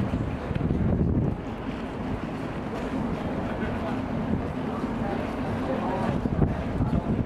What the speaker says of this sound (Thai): ลมแรงจริงๆแล้วก็ฝนก็ตกด้วย